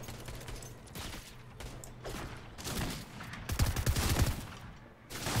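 Rapid bursts of gunfire in the Overwatch 2 video game, clattering automatic shots rising and falling in intensity amid busy in-game effects, with a louder burst near the end.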